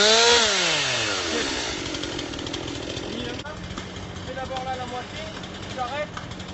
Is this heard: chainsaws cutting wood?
yes